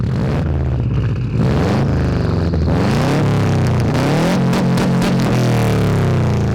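A Subaru STI with an NVIDIA catback and catless downpipe revs loudly up close, its raspy exhaust note rising and falling through several throttle blips with a deep rumble underneath.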